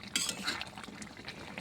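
Spoon scraping and clinking in a cooking pot while soybean curry without potatoes is stirred, a short run of near, moderately loud metallic taps and scrapes with no talking.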